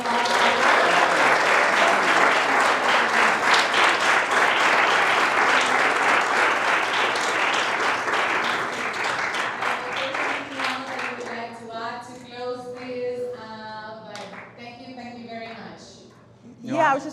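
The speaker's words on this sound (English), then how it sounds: "let's give them another round of applause" Loud, dense applause from a crowd goes on for several seconds, then fades as a person starts talking over the last scattered claps.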